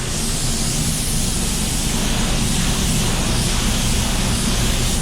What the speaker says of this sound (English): I'm gonna spray a little bit and show you.